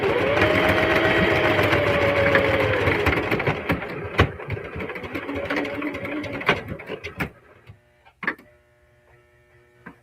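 A Singer Heavy Duty sewing machine stitches through thick layers of a crossbody bag, a loud steady whirring run that slows, stutters into separate needle thumps and clicks, then stops.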